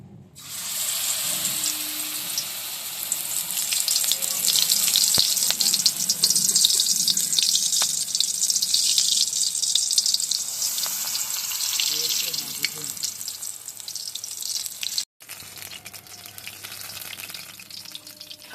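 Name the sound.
battered banana flower fritters frying in hot oil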